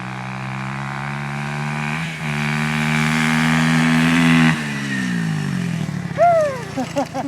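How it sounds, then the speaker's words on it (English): Dirt bike engines rev and race, a steady buzzing drone rising in pitch before dropping off, followed by sharper whining revs from bikes passing by at a distance. "we're racing dirt bikes"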